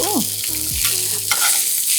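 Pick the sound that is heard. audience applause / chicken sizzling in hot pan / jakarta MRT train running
chicken sizzling in hot pan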